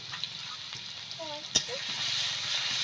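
Crushed garlic fries in hot oil as a steady, soft sizzle runs throughout, with a single sharp knock midway and faint voice-like tones drifting in behind.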